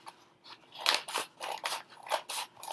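Scissors cut open a package along the top, making a run of crisp, close snipping and crunching strokes in an uneven rhythm, quiet and without talk.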